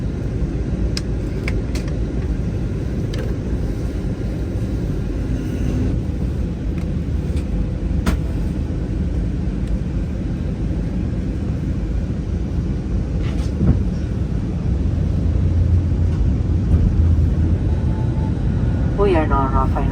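Steady, loud roar of an Airbus A321neo cabin during descent into Fukuoka, a constant low engine and air rumble with occasional faint clicks.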